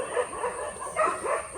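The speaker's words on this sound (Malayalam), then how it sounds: "പട്ടി കണ്ടോ?" A dog gives a few short, yipping barks close by in quick succession, brief and mid-loud against a quiet background.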